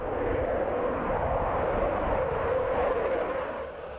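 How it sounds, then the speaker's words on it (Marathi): A Rafale fighter jet flies over the Ambala air base during an induction ceremony, its engine a steady, loud, broad roar that holds for about four seconds and eases slightly at the end. "राफेल फायटर जेट अर्थात शत्रूचा कर्दनकार."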